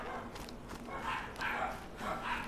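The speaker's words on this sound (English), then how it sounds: "There go my dogs. I don't know why they're barking." Dachshunds barking in the video game ARK: Survival Ascended, a few soft, distant-sounding barks and yips spread across a couple of seconds under low background noise.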